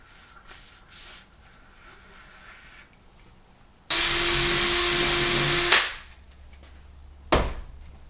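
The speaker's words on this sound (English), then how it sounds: "drilling the top 7/64 and the bottom holes 5/64" A power drill whines at high speed for about two seconds drilling small holes in a PCV valve, then spins down; light tapping and handling noises come before and a thump after.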